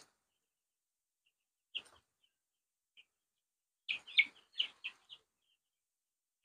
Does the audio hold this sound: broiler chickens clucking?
yes